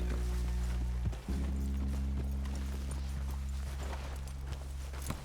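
Horse hooves clip-clop steadily in Red Dead Redemption 2, a continuous trotting rhythm over a low droning engine-like hum and game ambience, with no talk over it.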